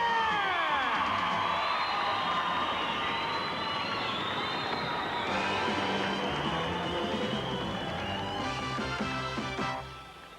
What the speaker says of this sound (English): let's have a round of applause for the rest of the competitors